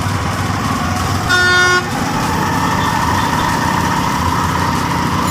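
Heavy traffic jam with trucks and cars idling on the road, a loud horn blast sounding for about half a second over the steady engine rumble, with more distant honking in the background.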